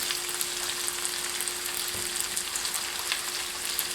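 Chicken pieces brown in a pan, giving off a steady, close, even sizzle and crackle with tiny pops throughout and a faint hum beneath.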